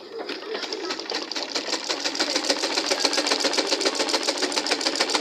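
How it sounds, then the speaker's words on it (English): A sewing machine stitches a Lycra dress over paper in a long, fast, steady run of rapid needle clatter, loud and close, rising slightly as it goes, with no talk. "So I'm going to sew it now straight down."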